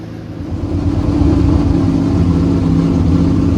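A truck with an intermittent stalling problem drives along, its engine swelling from a steady rumble into a louder, sustained low growl heard close by and without speech.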